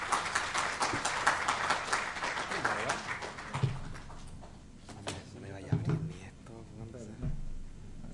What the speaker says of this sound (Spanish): Así es que lo recibimos con un aplauso